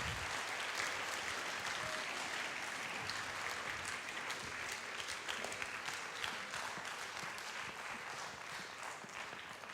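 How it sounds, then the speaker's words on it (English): Sustained audience applause fills the room, a dense steady clatter of many hands clapping at even loudness with no voices over it. "Please give yourselves a round of applause."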